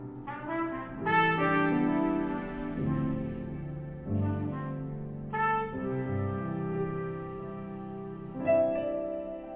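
Sustained wind instrument tones played with circular breathing hold without a break for breath, shifting pitch in a slow, drifting melody over about ten seconds, with no talking.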